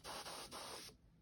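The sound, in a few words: quick dry nail polish spray sputtering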